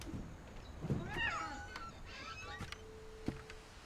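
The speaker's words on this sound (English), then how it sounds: "Am I hearing a cat?" In What Remains of Edith Finch, a cat gives a brief, moderately faint meow that rises and falls once amid soft indoor ambience and a few small clicks.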